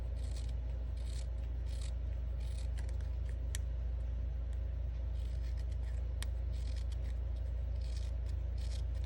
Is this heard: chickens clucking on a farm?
no